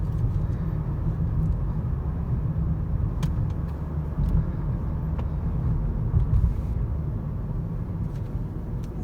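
A 2010 Lexus ES350 on a test drive, heard from inside as a steady low road and engine rumble, even and continuous, with no distinct gear change standing out.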